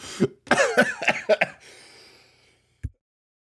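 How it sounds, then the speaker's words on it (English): A burst of several harsh, wet coughs in quick succession, close up, followed by a short pause and one final cough. "That was a bad cough."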